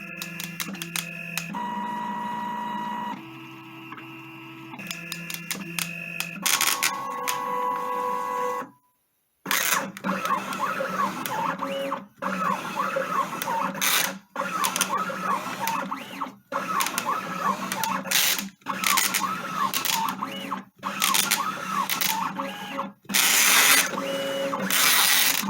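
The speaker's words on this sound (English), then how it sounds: "So now my machine is reading the register marks." A GCC Expert II LX vinyl cutter scans register marks and then cuts kiss-cut and die-cut stickers. Its motors whir and buzz in steady mechanical passes with rhythmic stop-start pulses and a brief silent pause, loud and close, running alone for about 25 seconds.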